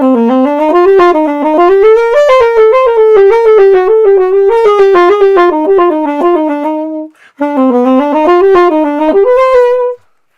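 A saxophone plays a legato melodic phrase, loud and close, breaking briefly for a breath after the downbeat before the line resumes and ends.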